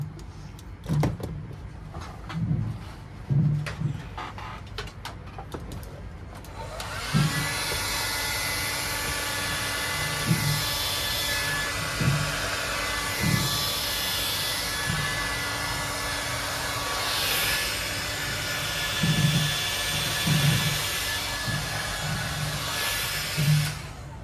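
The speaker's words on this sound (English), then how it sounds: "So I use a hot hair dryer to dry this thing" A hot hair dryer blows with a steady, whooshing hum after a few bumps and knocks, drying paint on a model head; the airflow wavers slightly as it moves about.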